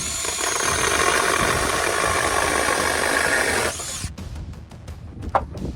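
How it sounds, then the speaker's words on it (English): A Seesii 8-inch mini chainsaw buzzes loudly and steadily as it cuts through wood outdoors, then cuts out, leaving faint knocks and rustling. "This is the 8-inch Seesii mini chainsaw, and it's performing very, very well."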